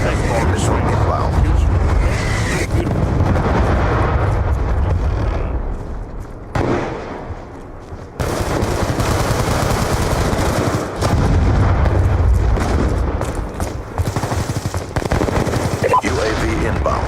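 Hellstorm missile strikes and gunfire in Call of Duty pound on in a loud, continuous barrage of rapid automatic fire and heavy booming blasts, briefly dropping away before surging again, with voices talking throughout.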